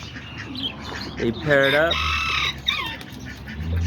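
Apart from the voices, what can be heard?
pigeons, newly paired blue bar female and white brown bar male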